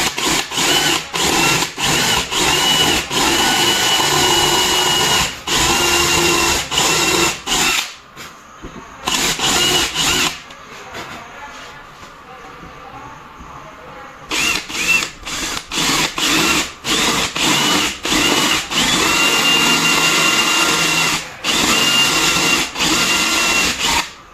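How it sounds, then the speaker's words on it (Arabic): A power drill bores a hinge hole for a concealed barrel hinge, whirring in repeated short bursts, loud and close, with a quieter pause midway before the bursts resume. "البنطه بتاعتي تنزل بالظبط في المكان اللي انا عايزه ينزل"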